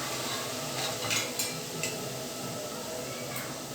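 Idiyappam-press dough fries in hot oil for a spicy Bodi-style mixture snack, making a loud, steady, close sizzle that fills the whole stretch with dense crackling.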